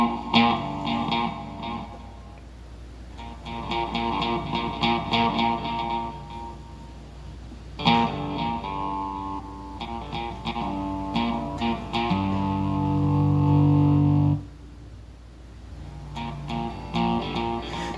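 An electric guitar plays chords and short riffs through a Fender modeling amp with light reverb, strummed phrases separated by brief pauses, alone.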